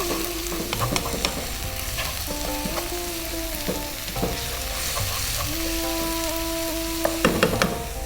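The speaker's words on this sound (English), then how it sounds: "We're going to add salt. We're going to give that a little mix." Ginger garlic paste and salt stirred in a frying pan for Rajasthani laal maas, a lamb curry, with steady sizzling and spoon scraping, a few sharper clinks near the start and end, and no talking.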